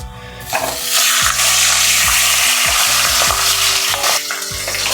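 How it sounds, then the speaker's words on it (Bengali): A fish head frying in hot oil, with a loud, continuous, close sizzle and a few scraping stirring strokes in the pan throughout. "এবার আমি মাছের মাথাটা ভেজে নেব।"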